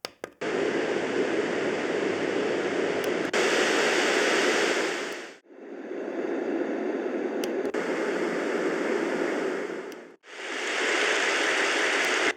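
A white noise machine plays steady broadband hiss in separate segments, each several seconds long, switching sharply from one variant to the next with brief dips between them and no voices.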